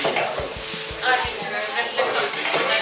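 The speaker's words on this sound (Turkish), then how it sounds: "Çekirgeleri iyice kızartıyoruz." Grasshoppers sizzle loudly frying in a hot pan in Africa while a utensil stirs and scrapes against the metal, with a few sharp clinks, up close.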